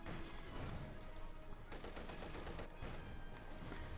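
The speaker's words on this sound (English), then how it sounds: "So right there we got the T-70 striking" Rapid, dense bursts of gunfire from a T-70 light tank and surrounding battle in Company of Heroes 2, crackling continuously and loudly for the whole stretch with brief sharper volleys, and no talk over it.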